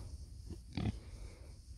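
A pig on a homestead gives a short, low grunt close by, one brief burst near the middle against quiet background rumble.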